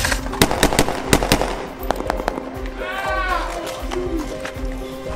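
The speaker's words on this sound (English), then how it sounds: "The guardhouse is shooting at us." Gunfire from a guardhouse in a war video game: sharp, loud cracks in quick bursts and scattered single shots, with a whooshing sweep and ongoing battle noise and voices underneath.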